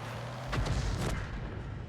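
A 105 leFH18B2 howitzer fires in World of Tanks, one heavy booming report with a rumbling tail that rises mid-clip over a steady low background hum.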